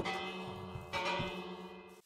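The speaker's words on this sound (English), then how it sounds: "Ring the bells!" Village bells ring in the Minecraft video game, two clear metallic bell strikes in quick succession with long ringing tones, fairly quiet and with no talk.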